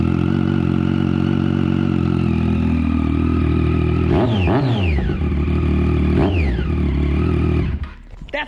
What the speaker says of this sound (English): That's the worst thing I've ever heard on a motorcycle.